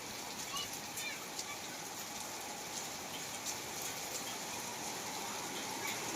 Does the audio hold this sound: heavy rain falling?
yes